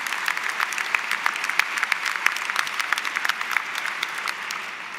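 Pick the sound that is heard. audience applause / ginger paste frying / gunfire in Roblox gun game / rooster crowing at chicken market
audience applause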